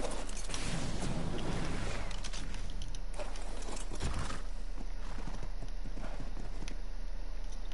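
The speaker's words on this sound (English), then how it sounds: "Right, what are we gonna name this horse?" A horse in the survival game Ark: Survival Evolved, with steady hoof clip-clop and a possible whinny over continuous outdoor ambience and wind-like noise, fairly faint throughout.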